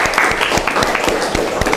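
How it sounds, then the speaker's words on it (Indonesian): Classroom applause, a small group of students clapping loudly and close by, with distinct sharp individual claps in a brisk, uneven rhythm over a short burst, with faint voices underneath. "Tepuk tangan ya."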